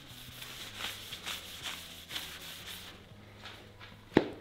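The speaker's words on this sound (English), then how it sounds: "rub the rest into it. You want it to sit there and really soak into the, in the wood" Cloth rubbing finish into the wood of a beginner DIY blanket ladder, a soft steady back-and-forth swishing in repeated strokes, close up, ending with a brief sharp knock.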